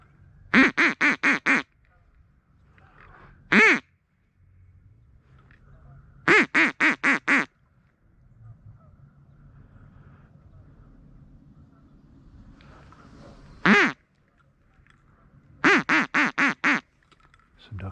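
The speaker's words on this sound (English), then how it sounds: "There's those ducks over there" Ducks on a family farm quacking in bursts of rapid four-to-five-note calls, with single louder quacks between them, clear and fairly close over quiet outdoor background.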